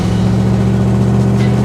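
A Meteor car's engine hums steadily while driving, a low rumbling drone with firm, even revs and no voices over it.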